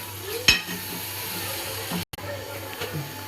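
Prawns go into hot, oil-separated roasted masala in a home kitchen pan, giving a steady sizzling hiss with a brief clatter of utensils near the start and soft background voices.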